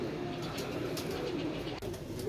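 A pigeon coos in low, repeated murmurs outdoors under steady background noise, with a soft voice briefly present.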